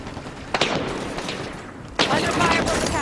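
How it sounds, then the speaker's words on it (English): Gunfire in the Halo 5 video game, with two loud bursts of shots and impacts, the second stronger, over continuous battle noise and voices. "Under fire from the catwalk"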